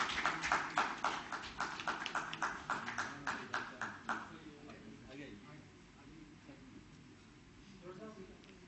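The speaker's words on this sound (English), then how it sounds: "Round of applause for Tata Power Delhi Distribution Limited." An audience claps for an award recipient at a safety convention: a run of sharp, rhythmic hand claps over roughly four seconds, then fading into quieter room noise with faint talk.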